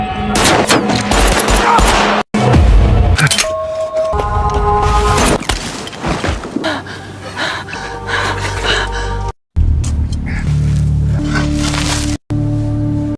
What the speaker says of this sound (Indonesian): muncullah perampok yang menembaki mobil mereka